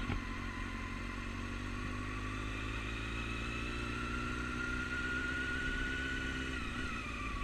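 A motorcycle ridden slowly on an MSF training course, its engine giving a steady close mid-pitched hum with constant wind noise and no clear revving changes.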